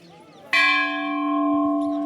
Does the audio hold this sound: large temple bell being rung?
yes